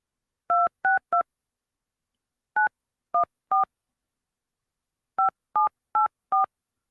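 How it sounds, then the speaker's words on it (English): Telephone keypad dialing tones beep in three short bursts of three or four crisp, evenly spaced tones each, close and clear against silence, as a number is dialed to call someone. "Let me see if he'll answer his phone."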